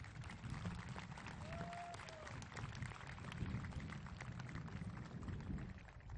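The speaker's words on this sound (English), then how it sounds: "Let's give them a round of applause." Graduation audience applauding parents and grandparents at a high school ceremony, a steady wash of clapping from a large crowd filling the whole stretch, with murmuring voices beneath.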